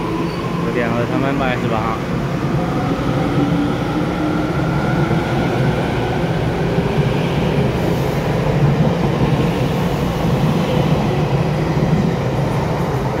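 Taroko Express TEMU1003+TEMU1004 tilting train departing Zhiben for Shulin via the Huadong line, a loud steady rumble of rolling wheels and traction drone inside the railcar, with a voice speaking briefly.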